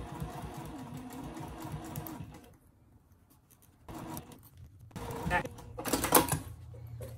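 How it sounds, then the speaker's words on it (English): Sewing machine stitching along the edge of a fabric seam for a placemat pouch, running steadily near the mic for about two seconds, pausing, then resuming in shorter bursts with some handling noise. "I'm stitching right along the edge."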